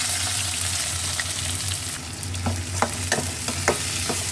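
Onion, curry leaves and green chillies fry in a pan with a steady close sizzle while being stirred, scraping clicks growing sharper toward the end.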